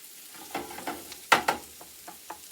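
Vegetables, bok choy among them, cooking down in a pan: a faint low sizzle with several sharp clacks of a spatula or utensil against the pan, one louder pair in the middle, with no talk.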